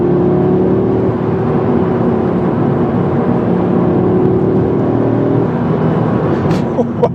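A 2025 Audi RS3 accelerating hard, its engine droning loudly and steadily with a rising note heard from inside the car over road noise.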